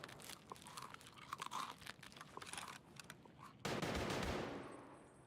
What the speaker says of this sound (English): Was shooting at him though.